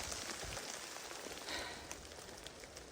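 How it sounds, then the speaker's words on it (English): Rain falls on a wet, rocky mountain trail, a soft continuous patter of drops with occasional louder ticks, faint and even throughout. "I can do without the rain."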